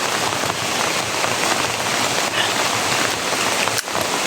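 Steady rain pours down, a dense hiss of drops hitting surfaces without pause, close and fairly loud throughout.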